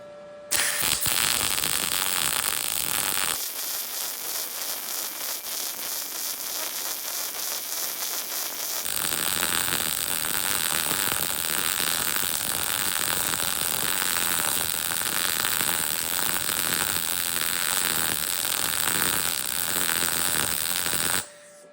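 MIG welding with a budget Arccaptain MIG 200 welder on synergic mode, a continuous loud crackling buzz of the arc, briefly changing character as the bead is laid in crisscross passes, no talking.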